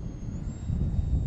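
A small RC Pocket Rocket jet flies nearby with a steady, rushing engine drone and a faint high whine, mixed with wind buffeting on the microphone.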